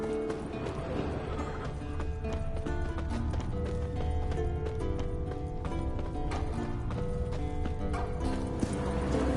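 Horse hooves clip-clop at a quick, steady rhythm in The Witcher 3, close and continuous under the game's ambient sound, with no talk.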